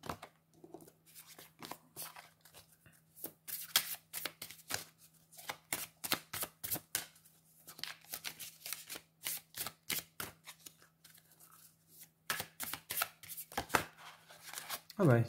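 Tarot cards being shuffled at length, a dense run of quick, crisp riffling and slapping bursts close by, with short pauses between handfuls.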